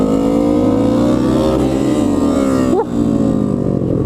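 A motorcycle engine revs steadily and loudly close by, holding a strong droning tone with rising and falling pitch sweeps and one brief dip near the end.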